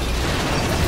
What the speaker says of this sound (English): Wow. Explosions everywhere.